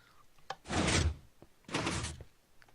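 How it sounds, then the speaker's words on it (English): Two broad whooshing grinds in a Minecraft redstone hidden-door build, a stone door sliding open and shut about a second apart, each lasting roughly half a second, close and alone without talking. "we've got another gem door with a stone button to let us out"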